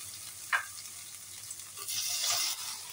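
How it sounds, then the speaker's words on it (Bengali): Paneer cubes frying in white oil in a pan for a palak paneer pulao, a soft, fairly faint sizzle with a brief sharp crackle as a piece goes in, heard close without talk. "পনিরগুলো একটু কড়া করে ভেজে দেব"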